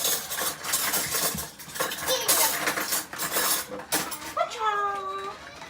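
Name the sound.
mixing cinnamon roll batter with a spoon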